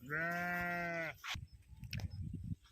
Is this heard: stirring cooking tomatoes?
no